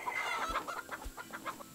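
A few chickens in the video game Garden Paws cluck in short repeated bursts, fairly close, with a soft steady background hum and no talking.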